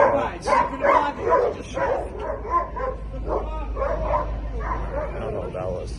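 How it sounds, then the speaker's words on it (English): Several dogs bark and yip in overlapping bursts in New York City, fairly close, with a whimpering edge and a low steady hum underneath. "A lot of dogs barking."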